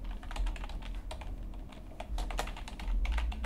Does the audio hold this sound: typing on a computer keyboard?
yes